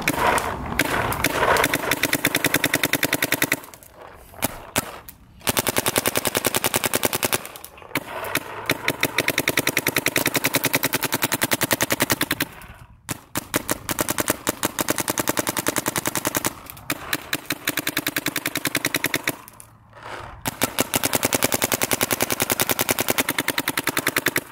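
Shocker AMP and Shocker XLS paintball markers fire GI 3-star paintballs in long, rapid bursts of loud, close shots, with brief pauses between strings.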